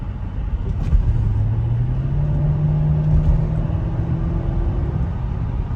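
A Mercedes-Benz SL500 fitted with Neomax coilovers is driven hard, giving a heavy, continuous road and engine rumble with a rising engine note as it accelerates.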